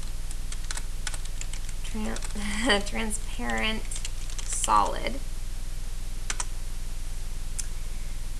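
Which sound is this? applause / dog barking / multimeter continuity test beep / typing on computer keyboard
typing on computer keyboard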